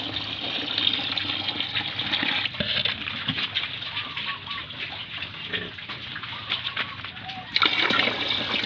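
Water is poured from above into a batch of pig feed mixed with a deworming powder, giving a steady splashing rush that lasts several seconds. The pour grows louder near the end, and a voice speaks over it.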